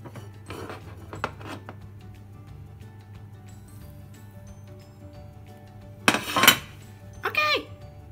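Spoon scraping and clinking in a bowl while stirring nut bread batter with ground flaxseed: a few faint knocks early, then two louder bursts of clattering, rubbing strokes near the end over a quiet room hum.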